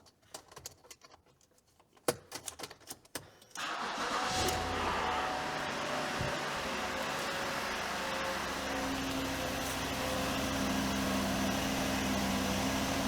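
A Lincoln MKX's engine cranks briefly on a jump pack, catches and starts, then settles into a steady, loud idle with no exhaust leak, continuing without a break.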